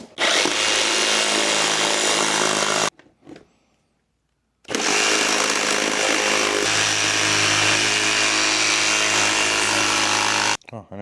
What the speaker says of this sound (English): time to cut. I'm just using a just regular little jigsaw.